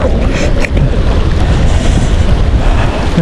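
Strong, fast river current rushes loudly and steadily, a dense, continuous churning wash of water with wind buffeting the microphone and no talking.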